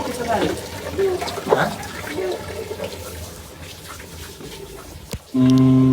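Water rushes and gurgles steadily into a washing machine at home, close and fairly loud, while people talk over it. A loud, hard tone cuts in at the end.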